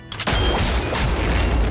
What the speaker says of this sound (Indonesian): Dia mengambil pistol di kantong dan menembak keempat orang ini.